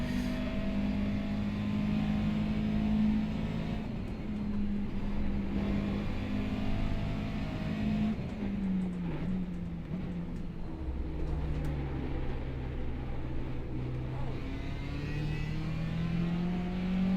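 McLaren MP4-30 Formula One engine held at full throttle in a racing video game, a loud continuous high-revving whine that rises and dips with gear changes, steady throughout with no talk.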